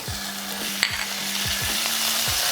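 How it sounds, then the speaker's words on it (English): Onion, sun-dried tomatoes and minced garlic frying in butter in a pan, a close steady sizzle with stirring scrapes and one sharp clink; no talk. "Fry that for a few seconds, just like this."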